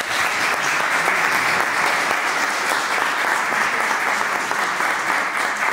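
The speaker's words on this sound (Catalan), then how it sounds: "Jo demano un aplaudiment per a ell" An audience at a history lecture gives a sustained, even round of applause, a dense wash of clapping at steady loudness from start to finish with no talk over it.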